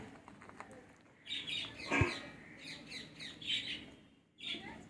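A pet bird chirps faintly indoors, giving short clusters of high tweets with a brief sharp click in between. The background is quiet.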